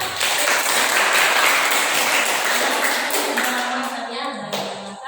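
Classroom audience applauding a student after a short-story reading, a loud sustained round of clapping from many hands that slowly thins out and tapers toward the end.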